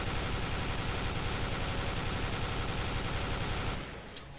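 Famas automatic rifle sprayed in a video game: one continuous, dense burst of rapid shots lasting nearly four seconds, then cutting off abruptly into quiet.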